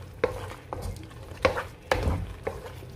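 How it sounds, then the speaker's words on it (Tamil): Semolina (rava) being stirred and sautéed in ghee in a pan, with irregular scraping and knocking strokes of the spoon against the pan over a faint sizzle. "நல்லா பெரட்டி பெரட்டி விட்டு நல்லா கிண்டுங்க"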